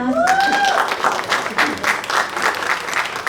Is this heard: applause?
yes